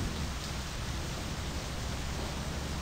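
Steady rain in the driving game My Summer Car, a dense, even hiss of falling water that holds without a break, with no talk over it.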